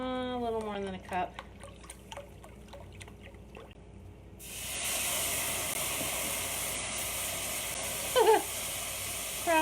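Broth is poured into a hot pan of lemon chicken piccata and erupts into a loud, sustained sizzling hiss of steam after a brief lead-in, with a voice talking before and during.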